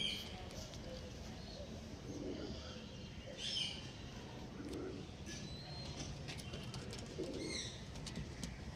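Cooing of pigeons at a market, soft repeated low calls under a steady background murmur, with occasional faint chirps above.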